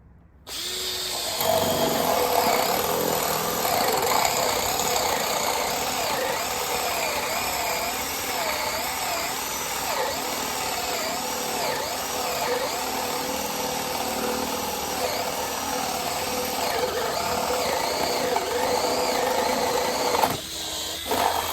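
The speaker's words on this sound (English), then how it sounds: "we'll go to speed 2 on this one" A Makita drill driver spins at speed setting 2, a loud, steady whining motor hum with a slight warbling pitch that runs continuously for about twenty seconds after a brief start.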